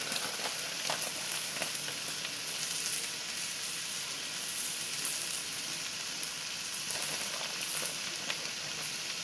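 Cheese fries topped with bacon and cheese sizzling in an oven, a steady dense crackling hiss that stays even and continuous throughout, close and moderately loud with no talking.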